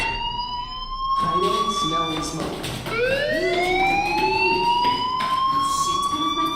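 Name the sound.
fire alarm ringing in a video game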